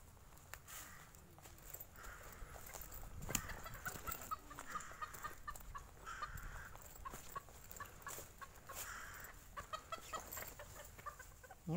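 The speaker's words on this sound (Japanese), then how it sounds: "鶏さんがいますよ。" Several chickens cluck in a small flock beside an old preserved farmhouse in a park, steady moderate clucking with occasional footsteps and outdoor ambience, no one talking.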